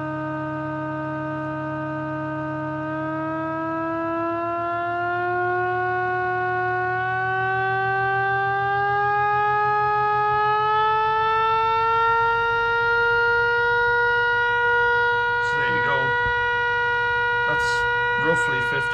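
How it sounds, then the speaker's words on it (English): A single-rotor, ten-port siren on a crude homemade VFD speed control spins up to about 50 Hz, its steady harmonic wail climbing gradually in pitch and loudness over nearly twenty seconds, with a low hum beneath and a few brief clicks near the end. "So it's just a single 10 port siren effectively."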